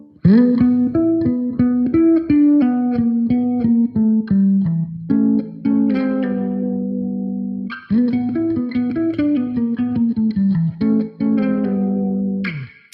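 A guitar plays a passage slowly and cleanly, picking arpeggiated notes over a sustained low tone, with a brief pause midway before the phrase repeats, alone with no talking.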